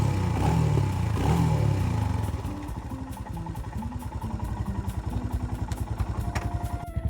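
Royal Enfield Himalayan 411 with a new Decata exhaust, revving loudly at first and then settling into a rapid, throaty idle with a distinct pulsing beat, close by.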